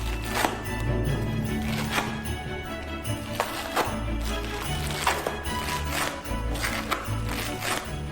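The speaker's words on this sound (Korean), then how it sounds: "먼저 스트립으로 자른 다음 큐빅으로 썰어주세요" A knife cutting pomelo or other food into cubes on a board: a steady series of chopping taps, moderately loud and close, under a continuous background bed with no talk.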